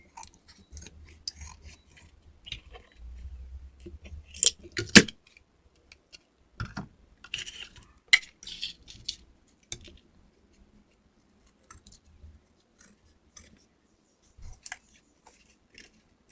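Scissors snipping through paper in scattered bursts of crisp cuts, close by, with quiet rustling and pauses between strokes.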